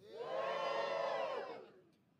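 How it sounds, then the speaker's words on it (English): Audience at a live stand-up comedy club cheering and whooping in a loud, sustained burst of mixed voices that swells quickly, holds for over a second, then fades away. "Now give me a cheer if you're single."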